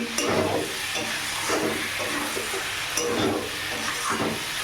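Vegetables with spices sauté in a pan for a vegetarian fig (dumur) and potato dish, giving a steady close sizzle and hiss with soft stirring scrapes, no talking.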